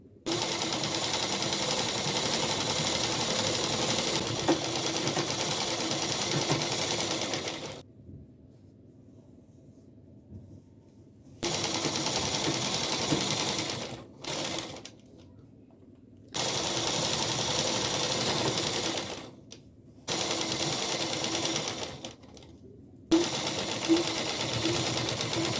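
A sewing machine runs loud and steady in long bursts, stitching the crotch seam of a salwar, with several pauses of near-silence between runs and no talking.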